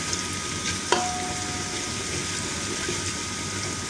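Cauliflower and potatoes fry with garlic in a pan for an aloo gobi dhaba-style dish, giving a steady close sizzle throughout, with one brief sharp clink near the start and no talking.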